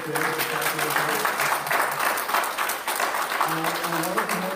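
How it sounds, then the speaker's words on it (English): Convention audience at a live Star Trek podcast panel applauds the panelists, a broad wash of clapping filling the room while voices talk over it. "let's have a round of applause for our panel"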